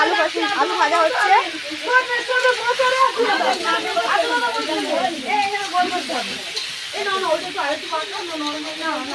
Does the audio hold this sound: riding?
no